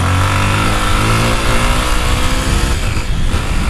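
A Honda XRE motorcycle engine revs hard during a wheelie and shifts into third gear, a loud, close, continuous roar whose pitch climbs and then drops briefly at the shift, with no talk.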